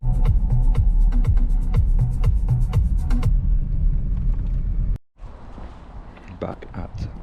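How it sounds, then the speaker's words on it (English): A car drives along with a steady low engine rumble and road hum, while a voice talks over it and music plays, then the sound cuts briefly to a quieter cabin. "Right, I'm driving."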